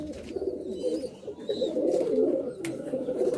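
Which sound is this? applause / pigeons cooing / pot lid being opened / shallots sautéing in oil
pigeons cooing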